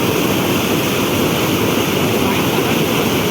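Strong river current rushes over the Ulhas river dam, a dense, steady roar of churning water that stays constant and close with no pauses.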